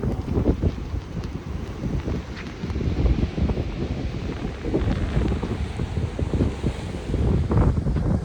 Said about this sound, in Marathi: तुम्ही बघू शकता इतका वारा येतो